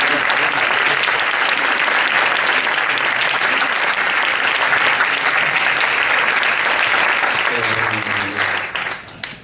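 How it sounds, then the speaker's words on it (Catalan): Loud, sustained applause from an audience at a film festival session, dense clapping filling the room for several seconds before tapering off at the end, with a voice briefly audible as it fades. "un fuerte aplaudimiento"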